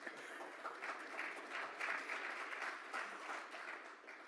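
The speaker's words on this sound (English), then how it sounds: "He started clapping for that immediately" Audience at a Rotary Club of Tulsa meeting applauding, a steady faint burst of many hands clapping that swells and fades slightly over a few seconds, heard from some distance with no talk.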